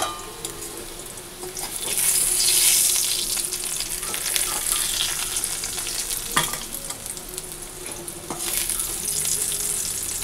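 Taro greens cooking in hot oil in a wok, a loud continuous sizzle with spatula stirring and a few sharp scrapes against the metal, no voices.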